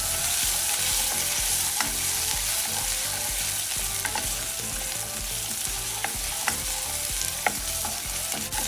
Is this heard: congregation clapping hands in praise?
no